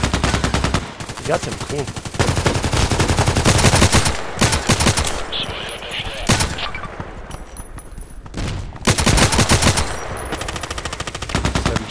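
Rapid bursts of automatic KelTec RFB rifle fire in the Contract Wars shooter game, loud and near, in several long strings with short pauses between, and someone speaking briefly over the shots.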